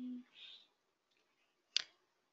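A single sharp computer mouse click, close and crisp, after a brief stretch of speech and then quiet.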